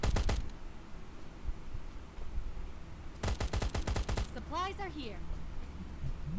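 Two rapid bursts of automatic gunfire crackle in the game Last Island of Survival, followed by a voice shouting briefly after the second volley.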